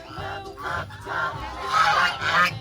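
A large flock of ducks sends out loud, overlapping honking quacks in bursts that build toward the end, close by and with no talking over them.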